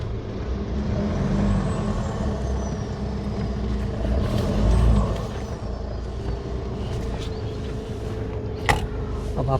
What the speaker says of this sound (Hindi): सामने से गाड़ी भी आ रही है